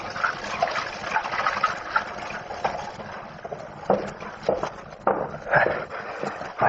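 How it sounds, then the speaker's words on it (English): A radio drama sound effect of tap water running at a washstand: a steady, moderately loud gushing and splashing, with small surges throughout and no voices over it. "Then I went over to the washstand and started to wash."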